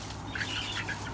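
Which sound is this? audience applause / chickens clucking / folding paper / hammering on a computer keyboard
chickens clucking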